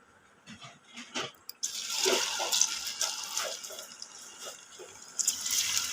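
Raw banana slices coated in masala drop into hot oil, and a loud, steady bubbling sizzle rises after a few soft splashes and keeps going to the end.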